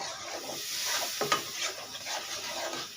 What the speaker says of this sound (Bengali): কষিয়ে নিয়ে আগে আর একটু কষাবো